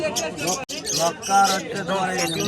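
Pigeons coo and flutter at a busy outdoor pigeon market in Birnagar while someone talks continuously over them nearby.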